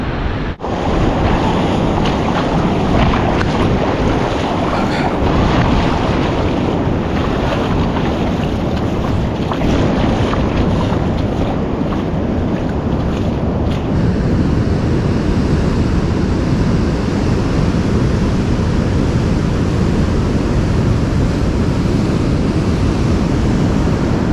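High surf pounding at Bethells Beach in bad weather, a dense, loud continuous roar of breaking waves mixed with heavy wind buffeting the microphone, with no voices.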